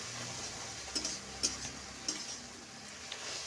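Onion stalks sautéing with ginger and garlic in a pan give a soft, constant sizzle, broken by a few sharp clicks of a spatula against the pan at irregular intervals.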